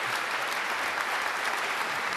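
Dense, steady applause fills a hall at a Frisian business award ceremony, with many hands clapping evenly and fairly close for the whole stretch, free of talk.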